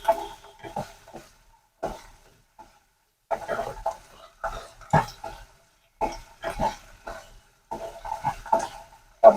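Garlic mushrooms stirred in a pan: short bursts of scraping and clattering from a utensil against the pan, coming in irregular clusters separated by brief quiet gaps, close and fairly clear.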